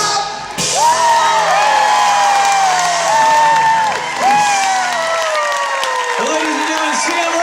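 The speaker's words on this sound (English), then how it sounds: "The crowd goes crazy." Theater audience at a vocal competition cheering, whooping and applauding after a singer's performance, a loud sustained roar of clapping and shouts while a voice speaks over it.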